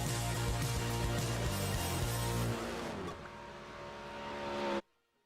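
Race cars in the iRacing sim at Monza roar loudly and steadily with a rising engine drone, shifting pitch midway, then cut off abruptly to near silence.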